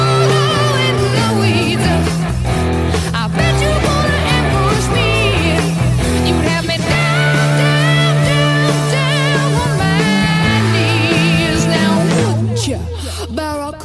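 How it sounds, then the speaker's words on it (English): Two overdriven electric guitars play the pre-chorus and chorus of a song, loud and dense with a driving rhythm and sustained chords, continuing for over ten seconds before tailing off at the end. "After that we go into pre-chorus and chorus, and they sound like this."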